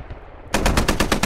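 A .50 cal machine gun in the video game Squad erupts after a brief lull into a rapid, heavy, evenly spaced burst of loud booming shots, close and dominant.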